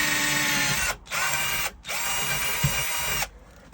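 A power drill boring a bolt hole freehand in an upcycling project, a loud, close, high whine running in three bursts separated by brief pauses.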